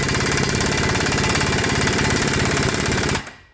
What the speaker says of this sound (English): this is going to get noisy, I apologize. But you can see that's all that air hammer can take.